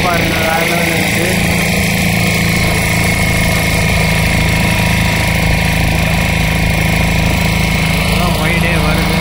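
A motor boat engine drones loud and continuous as the boat travels near Pulicat (Palaverkadu), a steady low rumble that stays constant throughout.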